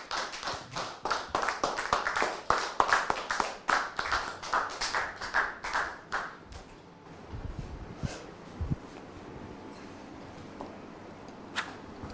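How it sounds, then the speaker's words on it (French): Studio audience applause opening a French TV talk show, dense clapping for about six seconds before fading into a quieter room with a few scattered taps and faint murmurs. "Sous vos applaudissements."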